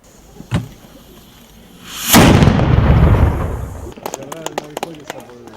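A sharp bang from a historic cannon fired at Saint Miklós Castle in Chynadiyovo, Ukraine, followed by a loud, rumbling blast that rolls on for a couple of seconds, then fades into voices speaking.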